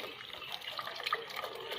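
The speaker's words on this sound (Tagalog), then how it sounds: "Bali mag-add nga po pala ako ng water mga idol" Water pours steadily into a cooking pot of sinigang broth with fish, a soft continuous trickle and splash heard up close for under two seconds with no talk.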